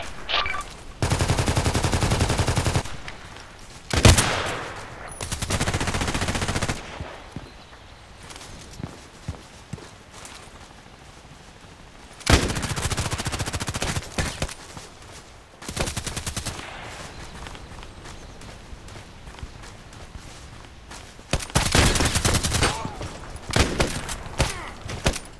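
SKS carbine fired in the shooter game Contract Wars, loud bursts of rapid shots separated by quieter stretches of footsteps and movement.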